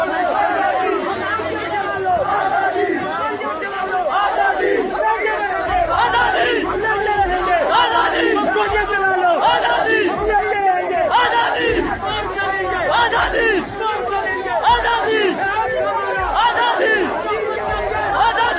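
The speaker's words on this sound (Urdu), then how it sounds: "آج وہاں پر نعرے لگ رہے ہیں آزادی کے" A large crowd in Rawlakot chants azadi freedom slogans in loud, rhythmic call-and-response waves, voices massed and echoing continuously throughout.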